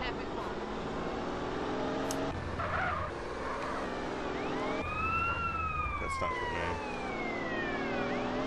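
A police siren in GTA San Andreas wails in rising and falling sweeps over steady car engine noise, fairly close and clear, with voices talking along with it.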